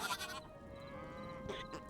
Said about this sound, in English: And there's a sheep with the cows.